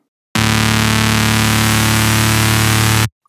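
A Serum synth neuro drum-and-bass lead layered with an AC hum noise oscillator at full level, one sustained loud buzzing, harmonically dense tone holding steady for about three seconds before cutting off.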